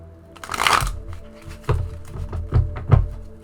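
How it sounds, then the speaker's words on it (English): Tarot cards being shuffled and riffled nearby, a few soft papery bursts followed by dull thunks as the deck is tapped down, no speech. "I'm trying not to shuffle these cards too much."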